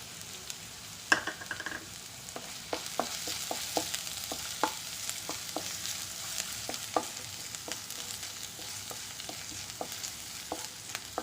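Ginger and garlic frying in a pan, a steady soft sizzle under a run of sharp utensil scrapes and taps as they are stirred, all without talk.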